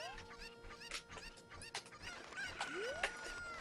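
Chickens in Ocarina of Time Master Quest squawk and cluck in quick, repeated bursts, a busy chorus of bird calls with a rising electronic swoop near the end.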